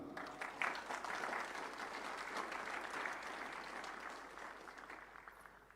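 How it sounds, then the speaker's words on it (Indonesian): Applause from a crowd for a Paskibraka flag-raising troop at a regency ceremony in Badung, sustained and steady for several seconds, fading gently toward the end. "Kita berikan aplaus bersama"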